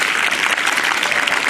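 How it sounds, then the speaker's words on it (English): An audience at an International Yoga Day event in Durban gives loud, sustained applause for a classical Indian dance performance. The clapping forms a dense, continuous wash of many hands. "One more round of applause, please."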